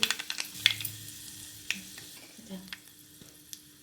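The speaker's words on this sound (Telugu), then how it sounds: "నూనె పోసుకుందాం నూనె ఎక్కువ పట్టదండి కొంచెమే పడుతుంది ఎండుమిరపకాయలు ఆవాలు కొంచెం పసుపు" Dried red chillies, mustard seeds and turmeric in a little hot oil, a soft crackling sizzle with sharp pops and spatters, scattered clicks of stirring, fading quieter toward the end.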